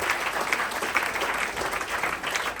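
A church congregation breaks into loud applause during a service, many hands clapping close and steadily, with slight surges in intensity and no talk over it.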